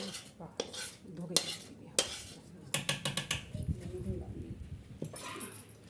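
A tadka being poured into kadhi in a cooking pot, heard as sharp metallic clinks and a rattling, spattering burst, with people talking nearby amid a busy kitchen for a large group meal.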